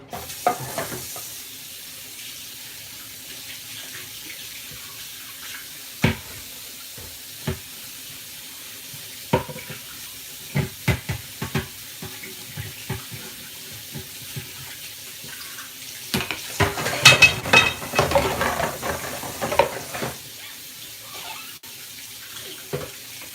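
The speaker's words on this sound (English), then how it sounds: "Let me wash my lid off from all that nasty stuff." Running tap water splashes over a pot lid at a kitchen sink, with scattered clinks and a louder burst of rinsing and scrubbing toward the end, no talking.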